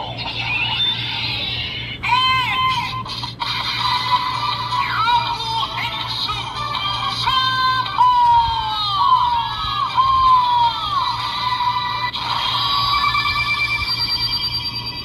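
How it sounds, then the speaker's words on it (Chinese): Electronic sound effects from a Kamen Rider Saber toy transformation belt with an upgrade accessory: bright synthesized chimes, rising and falling warbling tones and jingles play continuously and fairly loud, with a steady hum underneath and no talking. "插上去之后，整个音效就变了，就变成 S 圣刃的声音，然后接着听必杀技"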